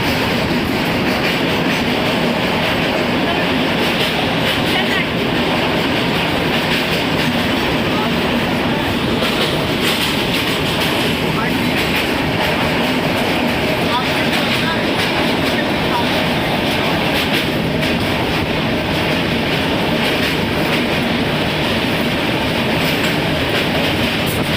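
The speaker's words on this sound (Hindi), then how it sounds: "कुछ ही देर बाद अपनी ट्रेन क्रॉस करती है नर्मदा नदी जो कि भरूच के ठीक पहले आती है।" The Swaraj Express from Mumbai to Katra rumbles steadily across the Narmada river bridge just before Bharuch, with continuous loud wheel clatter and rushing noise heard from inside the train.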